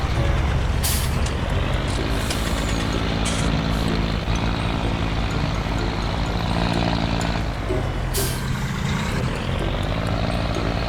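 A dump truck engine drones loud and continuous in Farming Simulator 19, with a rough mechanical roar and occasional hissing bursts like air brakes releasing.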